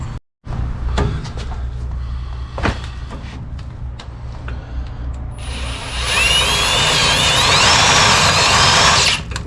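Power drill with a bit boring into metal on a Chevy OBS truck during a manual rack and pinion swap, a loud grinding whine building from about six seconds with high squealing tones, after clanks and handling knocks.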